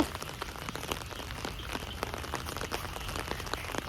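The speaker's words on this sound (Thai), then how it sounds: "โอ้ฝนตก" Rain falls steadily on a hard surface, a soft continuous patter with scattered distinct drops, fairly quiet and without voices.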